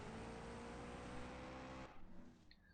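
A race car engine in the mobile game CSR2 roars at high revs with nitrous engaged, then cuts off sharply near the end, followed by a few brief game sounds.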